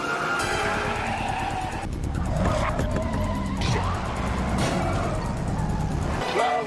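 A car careens out of control in a movie scene after a drone hacks its GPS, with loud tire skidding and squealing over engine noise, mixed with dramatic soundtrack and voices throughout.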